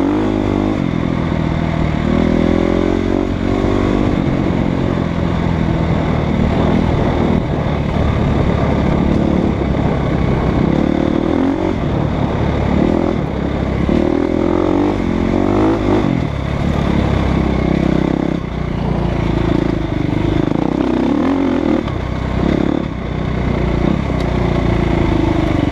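A Husqvarna FE350 dirt bike rides hard while chasing a Husqvarna WR300 off-road, its engine loud and continuous from up close, revving and dropping throughout with rattly clatter underneath.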